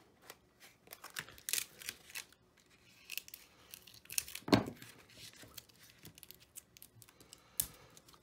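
Scissors trim paper along the spine of a Stamperia Alice ATC boxed mini album, with a few quiet snips and crisp paper rustles spread out, one sharper cut standing out near the middle.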